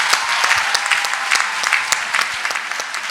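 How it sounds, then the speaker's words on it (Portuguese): An audience at a young pastors' conference panel bursts into applause, rapid crisp claps packed into a lively ragged burst that stays fairly close and full for about three seconds. "Merece uma salva de palmas."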